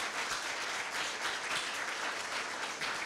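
Audience at a Korea University law research institute awards evening claps for a prize winner, an even, moderately distant round of applause with no voices.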